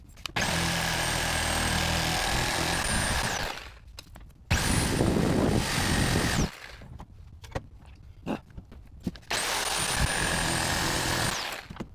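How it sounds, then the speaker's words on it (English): A Sawzall reciprocating saw cuts a part off an engine in a 1990 Jeep Grand Wagoneer, giving three loud, close buzzing runs of a few seconds each, separated by clanks and quieter handling noise. "So may just get the Sawzall and cut it off."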